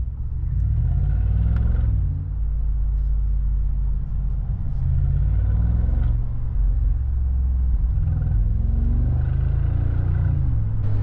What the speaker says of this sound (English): if you're accelerating slowly, you get this really nice rumble